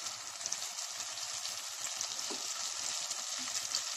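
Coriander and mint leaves sauté in a pan after tomatoes for Dindigul chicken biryani, giving a faint, steady crackling sizzle with soft stirring scrapes and no voices.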